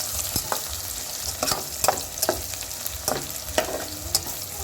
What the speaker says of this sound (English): ginger, at least a tablespoon of ginger. Then give it a stir.